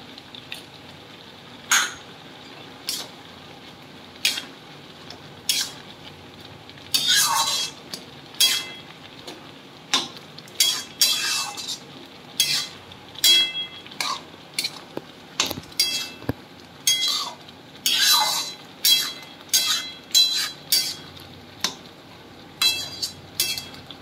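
Green chillies are stirred in a pan while cooking pat shak with masoor dal, with a long run of metal clinks and spatula scrapes, sometimes in quick clusters, over a faint frying background.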